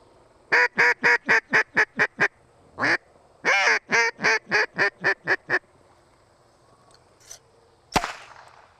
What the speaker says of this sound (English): I'm going to do some duck calling first.